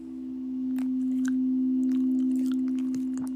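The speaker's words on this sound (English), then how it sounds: "You hear a harmonic hum." A steady, smooth harmonic hum swells in and holds throughout a live relaxation meditation, loud and continuous, with faint chimes and soft tones sparkling above it.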